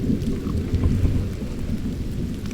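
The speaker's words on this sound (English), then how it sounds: "And just like that, we're hearing thunder too." Heavy rain pours steadily during a storm at the Devil's Throne while low thunder rumbles far off beneath it, a continuous loud wash with no voices.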